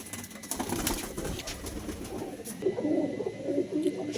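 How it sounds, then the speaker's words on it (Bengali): Andhra line pigeons with white eyes coo in low, rolling bursts, clearest in the second half, over a busy background murmur with faint wing and rustling sounds nearby. "আন্ধ্রা লাইনের পায়রা ছাড়লাম, লেগদার চোখের পায়রা, আন্ধ্রা লাইন।"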